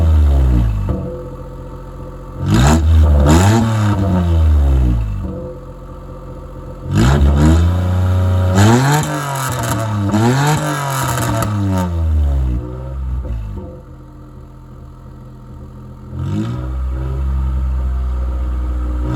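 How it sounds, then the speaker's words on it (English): Vehicle engine revved after a cold start in a hard freeze, with a small exhaust leak: loud, close revs rise and fall in two bursts of several throttle blips, then settle back to a steady idle and swell again. "Give you guys a couple of revs"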